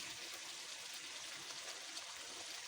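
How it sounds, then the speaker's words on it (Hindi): Water poured into a cooking pot for an okra and meat curry makes a steady, soft splashing rush that runs unbroken for a few seconds, fairly faint and close with no voices. "इसमें कोई 5 गिलास पानी डालूंगी मैं"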